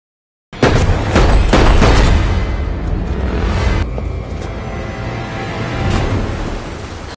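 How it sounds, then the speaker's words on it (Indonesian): A pistol is fired in a scene from the action film The Transporter, giving a sudden loud boom that rolls into a long, dense roar. The blast dies away slowly with a booming, noisy tail. "Namun tiba-tiba Ana datang menembak Kasarov dengan pistolnya"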